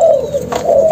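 Close, steady cooing from a pair of Malaysian zebra doves, a continuous low tone that swells and softens across the moment with no other sounds.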